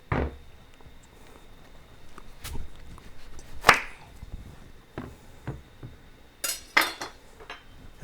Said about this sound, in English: now I am going to cut open the squash